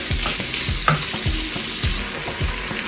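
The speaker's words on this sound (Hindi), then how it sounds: "चिकन को 4 से 5 मिनट हम हल्की आंच पर भूनेंगे ताकि चिकन अच्छे से पक जाए।" Chicken frying over low heat in a pan, a continuous soft sizzle with periodic stirring scrapes every half second or so, close and steady, no voices.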